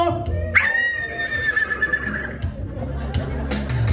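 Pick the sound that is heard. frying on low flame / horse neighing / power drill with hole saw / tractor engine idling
horse neighing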